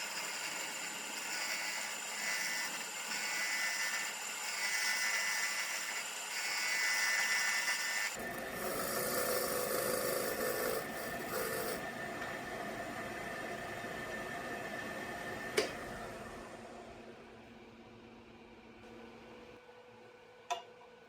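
A wood lathe spins while an old jam chuck is refined to fit drilled holes for tea light holders, a steady whirring hum with a faint ticking rhythm, then a quieter stretch marked by a couple of sharp knocks.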